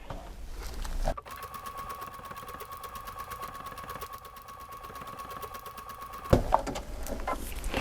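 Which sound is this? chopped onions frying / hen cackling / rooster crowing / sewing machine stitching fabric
sewing machine stitching fabric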